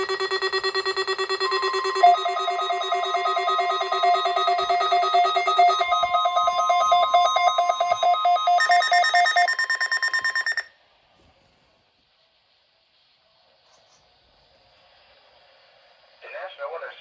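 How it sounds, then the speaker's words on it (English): Emergency Alert System weather radio test from the National Weather Service in Pueblo, sounding loud, steady electronic alarm tones for about ten seconds, then silence before a faint burst of noise at the end. "The National Weather Service in Pueblo just activated the emergency alert system as a test."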